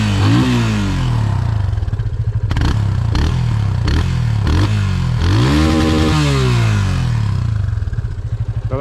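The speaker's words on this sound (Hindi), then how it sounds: "ये थी अपनी FZ 250 की आवाज़।" A Yamaha FZ 250 single-cylinder motorcycle engine runs loud and close, with a deep, bassy idle broken by several sharp throttle blips that rev up and fall back.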